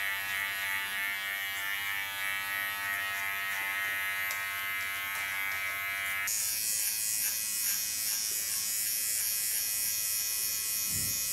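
A fine electric hair clipper buzzes continuously while cutting a sharp contour line on a bob haircut, close and steady, its whine shifting in tone partway through.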